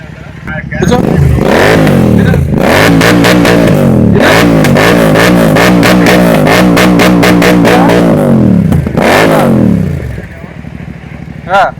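A motorcycle with a loud, throaty modified aftermarket silencer revs hard again and again up close, engine pitch rising and falling before it drops back to idle.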